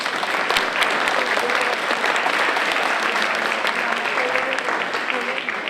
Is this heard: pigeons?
no